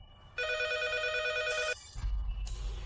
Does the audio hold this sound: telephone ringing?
yes